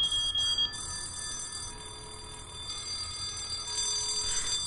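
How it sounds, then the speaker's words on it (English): Electronic intruder alarm in the horror video game White Day, set in a school at night: a sustained, shrill multi-tone ringing that holds steady for several seconds at moderate level with no talking. "The alarm says there's an intruder in the school."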